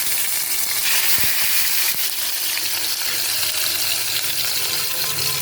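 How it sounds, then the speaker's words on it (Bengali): Bhetki fish pieces fry in hot oil in a kadai, giving a steady, dense sizzle with a couple of faint knocks and no talking. "তার জন্য কড়াইতে তেল গরম করতে দিয়েছি। আমি মাছটা ভাজা দিয়ে দিই।"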